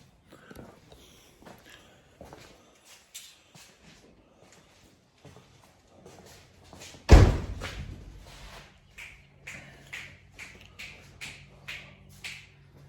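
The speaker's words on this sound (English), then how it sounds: "Shut that door, KJ." A single loud slam of a 2006 Ford F250 door lands partway through, preceded and followed by soft footsteps, scuffs and low movement in a garage.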